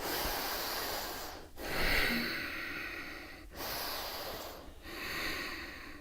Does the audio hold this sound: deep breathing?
yes